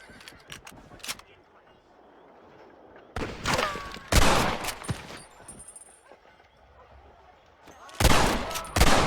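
Bursts of gunfire from a Red Dead Redemption shootout, with scattered shots early on, then heavy loud volleys around the middle and near the end, while voices speak over the fight.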